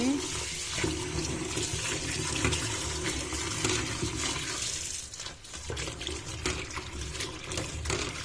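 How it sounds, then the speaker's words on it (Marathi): Mushrooms are washed under running water, a steady rushing stream with splashing that continues for several seconds, with no talk. "अशी अळमी धुवून घेवपाची."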